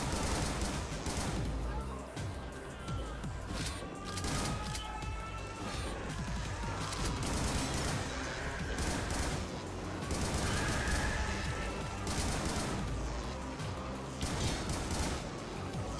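Continuous gunfire in the Xbox One game Butcher, a dense overlapping barrage of shots and crashes that runs throughout, loud and unbroken.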